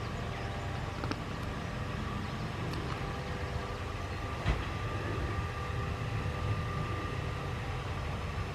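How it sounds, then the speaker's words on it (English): Welsh Highland Railway train running near Porthmadog, a steady rumbling rail roar with faint clicks and one sharp knock midway, continuous and without talk. "It's the Welsh Highland Railway"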